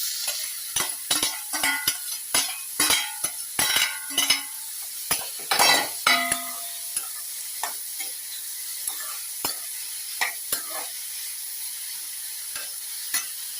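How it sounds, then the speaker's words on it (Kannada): Boiled vegetables go into a pan of frying cumin for vegetable rice, bringing a brief burst of sizzling followed by repeated scraping strokes of a spoon stirring against the pan, close and crisp, with no talking. "ತರಕಾರಿ ಬೇಯಿಸಿ ಇಟ್ಕೊಂಡಿದ್ದಲ್ಲ ಅದನ್ನು ಕೂಡ ಹಾಕ್ತಾ ಇದ್ದೇನೆ."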